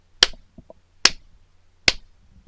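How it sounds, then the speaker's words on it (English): Three loud, sharp hand claps spaced roughly evenly about a second apart, each a crisp isolated crack with a short tail, against an otherwise quiet room. "they will clap 3 times very loudly so that the claps will appear on the timeline"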